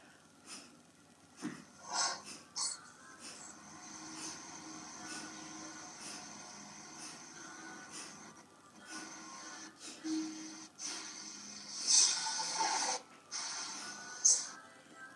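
Kapalabhati yoga breathing, a series of short forceful nasal exhalations in irregular bursts with quiet gaps between them, close and fairly faint, with no speech over it.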